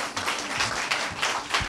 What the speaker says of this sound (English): Can we clap our hands for that?